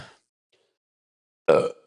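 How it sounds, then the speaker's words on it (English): A single short, loud, guttural burp close to the mic near the end, following a brief throaty sound and near-silence. "I got a burp that I could be doing too"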